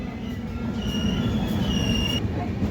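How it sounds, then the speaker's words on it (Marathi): The Marathwada Sampark Kranti Express departs Nanded with a close, continuous rolling rumble and high, drawn-out wheel squeals over the short stretch. "आपली मराठवाडा संपर्कक्रांती एक्सप्रेस नांदेडवरून निघालेली आहे"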